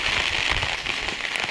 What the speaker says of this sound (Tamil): மழை பேஞ்சிக்கிட்டே இருக்குது